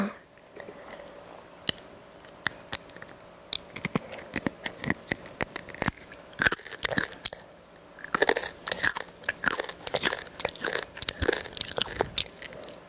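Crunchy nurungji, scorched Korean rice crust, is bitten and chewed up close, with scattered sharp crunches building into dense, rapid crackling bites and grinding chews.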